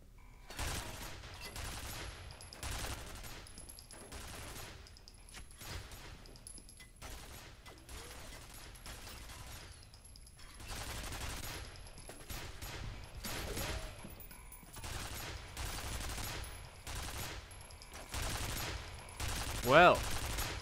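Gunfire in the first-person shooter F.E.A.R. comes as repeated bursts of automatic shots and sharp single reports, moderately loud and spread across the whole stretch, with brief pauses between exchanges.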